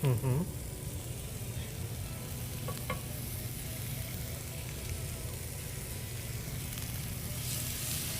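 Venison chops coated in olive oil sizzle steadily on a grill, a close, continuous frying hiss that holds level throughout with a few faint clicks of handling.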